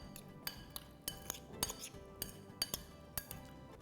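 Prawns are tossed with salt and chili flakes in a bowl, a utensil clinking and scraping against the dish in quick irregular taps and soft wet stirring, close and moderately loud.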